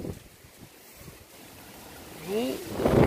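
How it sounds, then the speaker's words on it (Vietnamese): Strong storm wind from typhoon No. 5 gusts in a garden where trees are being cut down, a steady rushing roar that swells louder toward the end. "Gió quá trời gió luôn, bão bùng rồi."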